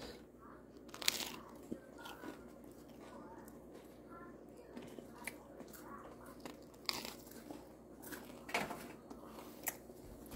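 Someone bites into and chews homemade French bread, producing soft close crunches and scattered crisp cracks at irregular intervals over a quiet background, with occasional faint voice sounds.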